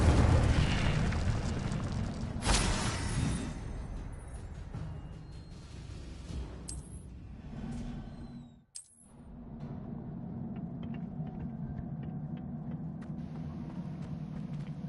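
A spell being cast in the Hogwarts Legacy video game: a loud fiery whoosh and burst starting near 2.5 seconds, then a sustained roaring rumble with a brief dropout before a steady crackling burn continues alone.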